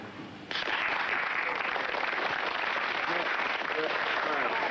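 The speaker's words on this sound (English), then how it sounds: "The people in the front row will start clapping and stop as my hand goes across like that" A front-row audience claps together on cue, a dense steady wash of hand claps that starts abruptly and keeps going without pause.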